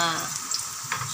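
Garlic and onion sauté in a hot pan while cooking shrimp, giving a steady close sizzle and frying hiss with a brief louder crackle near the end.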